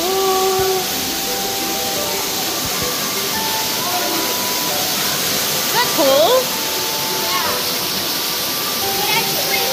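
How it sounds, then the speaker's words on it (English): Steady broadband rush of an indoor waterfall in an aquarium's 3D mountain exhibit room, continuous and fairly loud, with people talking nearby over it. "we're walking into mountains, and there's a waterfall"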